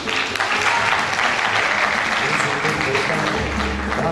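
A crowd at an Italian singing contest in Stuttgart applauds a finalist singer, loud, dense clapping filling the hall without a break, with faint voices and a hint of music rising near the end.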